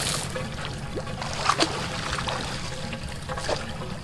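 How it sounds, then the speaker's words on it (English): Water is poured into a homemade free-energy water pump beside a river, a steady close trickle and splash with a few louder gurgles. "Have to fill the water until it's full before we open the egg."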